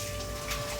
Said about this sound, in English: now you add water